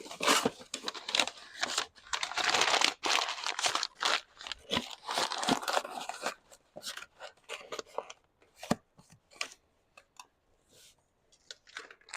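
Paper crinkled and crumpled close to the mic in quick bursts of crunchy rustling, loud at first and then thinning into scattered sharp crackles, with no voices.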